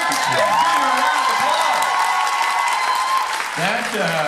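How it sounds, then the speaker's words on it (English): A fan convention crowd applauds Richard Speight Jr., loud sustained clapping mixed with cheers and whoops, with shouting voices breaking through toward the end. "everybody give Richard Speight Jr. a round of applause"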